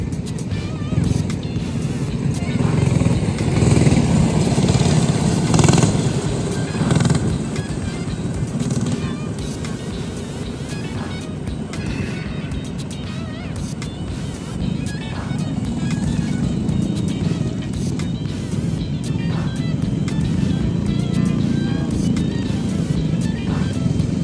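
Go-karts race around a track, their small engines buzzing and droning in a continuous, fluctuating roar from several nearby and passing karts.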